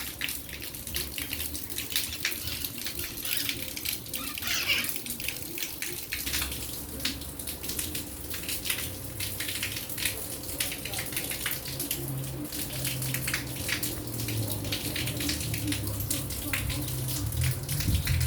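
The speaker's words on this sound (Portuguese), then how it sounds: "Mas a chuva foi refrescante." Light rain falls steadily in Pirassununga, São Paulo, a soft continuous patter of drops and trickling water close by, with a low hum underneath and no voices.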